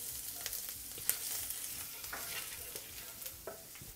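Chopped ginger and garlic frying gently over moderate heat for a sweet and sour sauce, a soft, low sizzle with light stirring taps and scrapes, fairly quiet and close.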